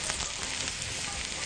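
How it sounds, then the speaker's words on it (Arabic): Mushrooms sauté with onion and garlic in two spoonfuls of oil, giving a steady, close sizzle and frying hiss that fills the whole short stretch without pause. "هنبدا بقى نشوح المشروم مع البصل ومع الثوم في معلقتين الزيت"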